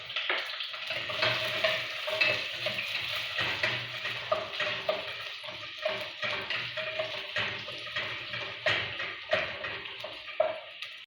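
Garlic and onion sautéing in a pan, a steady close sizzle punctuated by repeated stirring scrapes and clinks throughout, with no talking.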